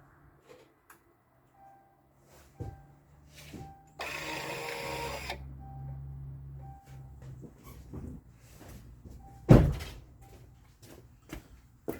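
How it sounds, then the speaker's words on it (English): A Range Rover's electronic rear parking brake releasing: a buzzing motor whir for about a second, then a lower mechanical hum trailing off, with a few isolated clicks before and a sharp knock after, all close and fairly quiet. "Let me release the parking brake right quick."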